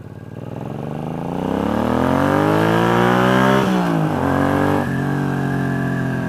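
A bobber motorcycle on a test ride accelerates with a loud, close engine note that climbs steadily in pitch, dips briefly at two gear shifts, then settles into a steady cruise with no talking.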